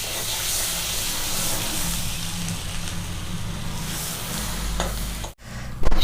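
Cumin seeds and a little dried chilli sizzle hard in hot butter and oil for a chana masala tempering, a loud steady hiss with crackle, cut briefly by a sharp gap near the end.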